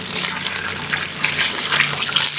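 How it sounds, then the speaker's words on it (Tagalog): Water pours steadily into a pot for a mussel and papaya shellfish soup with salted egg, a continuous close splashing gush like a tap filling a vessel, with no talk over it. "Lagyan na po natin yan ng sabaw."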